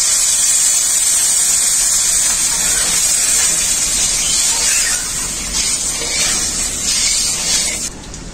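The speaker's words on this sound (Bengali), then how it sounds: "এখন আমি জল দিয়ে দেবো ঝোল করার জন্য।" Water poured into a hot pan of spice-fried taro stolons, a loud steady sizzling hiss with crackle that fades a little toward the end, with no voices.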